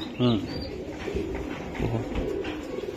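Racing pigeons coo softly and repeatedly, at close range, in a Bangladeshi pigeon loft where someone talks over the birds throughout.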